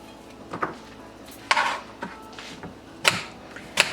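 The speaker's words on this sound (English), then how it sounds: "But I'm going to use these apples right away after I chop them." A knife chops apples on a cutting board for a Russian salad, giving sharp, irregular wooden knocks with short pauses between them, close and clear, with no voices.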